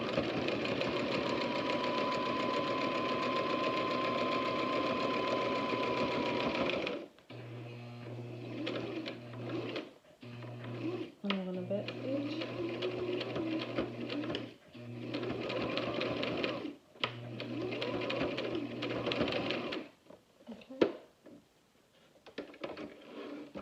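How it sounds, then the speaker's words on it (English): A sewing machine back stitches the edge of a homemade face mask fitted with elastic hair bands: one long continuous run of stitching, then a string of short stop-start bursts with brief pauses and light clicks between them. "And I'm going to back stitch one more time."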